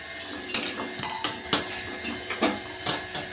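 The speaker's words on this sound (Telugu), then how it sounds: "కాఫీ కలుపుతున్నాను." A spoon stirring coffee in a cup, ringing metallic clinks repeating in an uneven rhythm about every half second, close and clear over quiet room tone.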